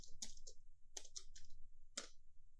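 Keys clacking on a computer keyboard while C++ code is typed in the Dev C++ editor on Windows 10: irregular bursts of close, crisp keystrokes separated by short pauses, with no talking.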